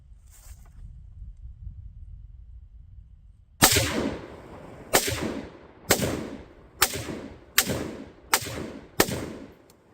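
Seven sharp, loud shots from a DP28 semi-automatic rifle fired from the shoulder, spaced roughly a second apart after a quiet stretch, each crack echoing briefly outdoors.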